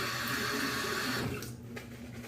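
Water runs steadily from a tap for more than a second, then the flow is shut off and a few faint drips and clinks follow in a quiet room.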